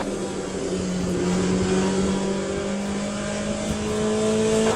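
GTE race car engine in the Le Mans Ultimate sim racing game at Sebring, a loud, steady drone with rising and falling pitch and no talk over it.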